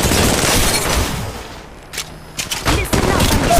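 Gunfire in the Apex Legends Mobile shooter game, loud bursts at the start that fade, then a few sharper shots and impacts later on, with dense battle noise throughout.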